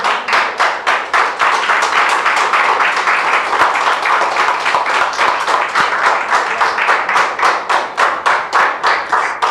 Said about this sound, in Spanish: yo creo que les puedo dar palmas al Rey